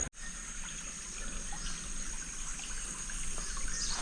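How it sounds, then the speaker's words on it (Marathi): A river after rain flows in a steady, unbroken wash of water, heard close and alone without talk, apart from a short knock at the very start. "हे बघा नदीचं पाणी आलं भरपूर"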